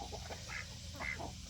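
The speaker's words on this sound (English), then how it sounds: "Here come the duckies." Ducks quack close by in a backyard poultry area, a quick series of short nasal calls in rapid succession over a steady outdoor background hiss.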